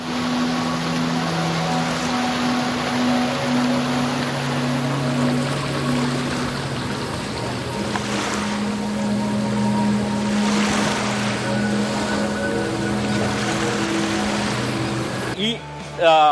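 Water pours through canals and over a waterfall at Wandoor in Malappuram, making a continuous close rushing roar with a low steady drone beneath it, before a short disturbance at the end.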